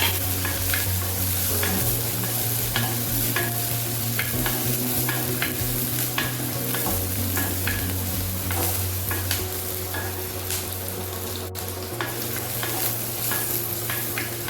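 Finely chopped onions for rava idli sizzle steadily in a hot pan while a utensil scrapes and stirs at irregular intervals, close up, with a low hum underneath.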